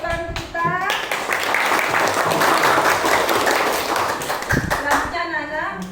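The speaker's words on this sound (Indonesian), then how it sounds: "Beri tepuk tangan untuk kita." Schoolchildren in a classroom clap together, a dense burst of applause lasting a few seconds, with a voice and an adult speaking just before and after.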